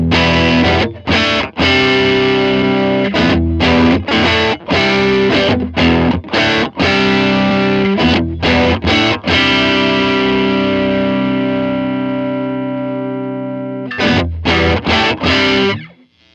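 Distorted electric guitar through a digital overdrive pedal, without delay or reverb, played in short chopped chords, then a long sustained ringing chord that fades before a final burst of strums.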